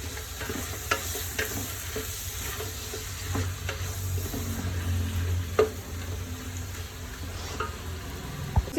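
Chicken meat for biryani frying in a pan, a steady crackling sizzle with occasional stirring scrapes, close and moderately loud, with no voices.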